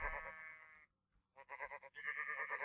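Sheep in a modded Minecraft-style video game bleat several times in quick succession, clear and close, with a short gap of quiet between calls.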